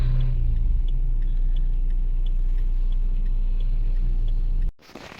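Car driving on a road, a steady close engine and tyre rumble heard from inside the vehicle, continuous and even, ending with a brief knock and quieter background.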